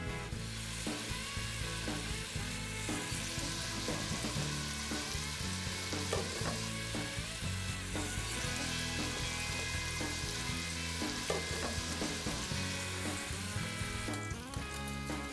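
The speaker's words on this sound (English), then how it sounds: "We're going to cook the bacon for a while, let it render out the fat" Chopped bacon frying in a pan for spaghetti carbonara, rendering its fat: a steady, dense sizzle runs throughout with occasional stirring scrapes and small pops, close and fairly loud, with no talking.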